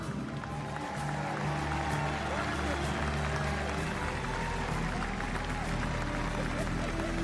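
Crowd applause at a championship ring and banner ceremony for a basketball team, steady dense clapping throughout with a deeper rumble of crowd noise swelling partway through.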